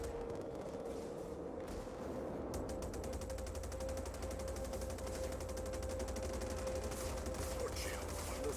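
A ship under weapons fire in Star Citizen, rapid rhythmic automatic fire rattling over a steady engine hum and tone, with muffled impacts, fairly faint and continuous.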